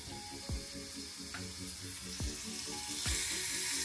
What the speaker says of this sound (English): Now time to prepare the steak.